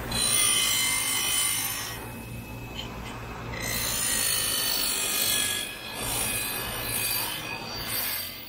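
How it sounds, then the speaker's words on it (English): Wire brush scrubbing a painted Kawasaki Vulcan 900 motorcycle part, a steady near raspy scraping that runs in long strokes with brief pauses between passes, no talking. "I'll show you wire brushing it"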